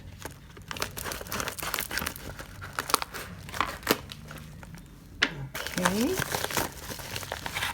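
Protective plastic wrapping is peeled and crumpled off a Merlin Tarot set, with close, continuous crinkling and tearing. A person says a short word near the end and speaks briefly over the rustling.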